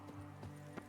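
Horse hooves in The Witcher 3: Blood and Wine clip-clop in a quick, uneven rhythm, a few distinct strikes close by with a low steady hum underneath, no talking.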